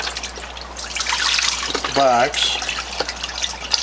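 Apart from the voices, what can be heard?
pouring low-sodium chicken broth from a container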